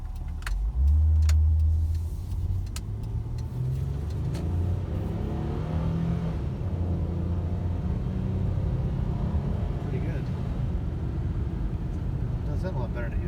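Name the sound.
Nissan Maxima engine pulling up a hill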